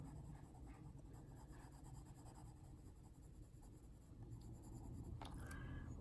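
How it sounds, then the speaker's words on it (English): Polychromos colored pencil rubbing on paper with light pressure, a soft continuous scratchy shading sound close up, with a few brief sharper strokes near the end. "Just low and light pressure for the polychromos."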